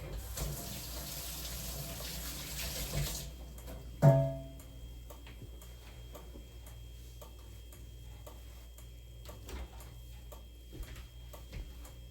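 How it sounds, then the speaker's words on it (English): A kitchen tap runs while hands are rinsed during pancake cooking, a steady water rush for about three seconds that stops, followed by quiet room noise with a clunk and faint ticking. "I'll rinse my hands really quick."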